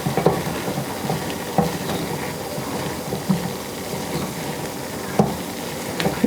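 Rice being stirred in a sizzling pan for a Korean beef plate: a steady frying hiss broken by irregular scraping clicks of the utensil against the pan, close and moderately loud.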